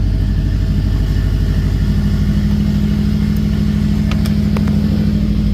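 A 2011 Subaru WRX with a rebuilt turbo idles in a loud, steady, close-up low rumble with a faint ticking layered over it, and no talking.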